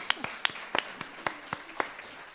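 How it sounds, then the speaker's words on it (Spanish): Applause from a small audience at a talk: a few sparse, separate claps at a steady rhythm, fairly faint and distant. "un aplauso para todas vosotras"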